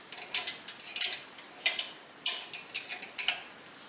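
Two spanners tighten small nuts on a locomotive stretcher, producing sparse, sharp metallic clicks and ratcheting ticks in irregular bursts, close by against a quiet background.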